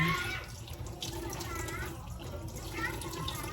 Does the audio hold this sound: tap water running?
yes